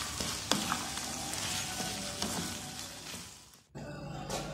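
Capsicum, carrots and cauliflower are stirred in a hot pan, with a steady sizzle, scraping strokes and occasional clicks, up close and without talk.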